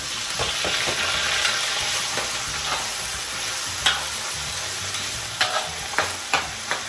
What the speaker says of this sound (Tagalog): una natin ipiprito natin yung patatas sa carrots